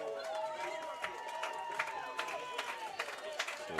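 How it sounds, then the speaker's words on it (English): Baseball fans in the bleachers at a Hoptown Hoppers versus Madisonville Miners game, clapping in a steady rhythmic beat from a distance while an announcer talks over it. "the fans getting into the whole clapping action"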